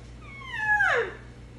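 A mouth diaphragm call is blown to imitate an elk: one high, thin whistle that bends upward and then swoops down, lasting about a second, close and alone over quiet background.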